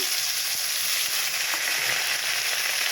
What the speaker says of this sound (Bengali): তেলের মধ্যে দিয়ে দিলাম কালো জিরে আর কাঁচা লঙ্কা